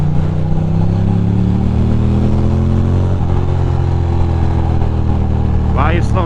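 Ducati motorcycle engine revving while riding through New York City streets: a loud, continuous low growl that climbs steadily in pitch and then holds, with a brief sharper rise near the end and wind buffeting throughout.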